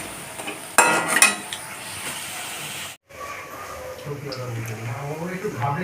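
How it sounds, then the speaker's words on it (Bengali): Soybean pakoras fry in hot oil with a steady, close hiss. Metallic stirring clatter opens the sequence, the sound drops out for a brief moment, and then the frying continues more quietly. "বাকিগুলো ঠিক একইভাবে ভেজে নিচ্ছি"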